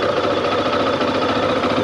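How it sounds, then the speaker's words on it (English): The 350cc single-cylinder engine of a Zontes ZT350-T motorcycle runs close by with a steady, fast thumping pulse and a mechanical clatter. "Little 350 single engine."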